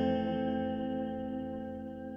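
A guitar chord for a cover, strummed once and left to ring with reverb, fading slowly on its own over a couple of seconds.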